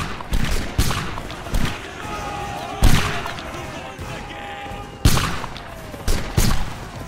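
Volleys of musket fire in a Napoleonic line-battle video game, sharp loud cracks landing in uneven clusters with ragged reports crackling between them and a faint voice briefly under the shots.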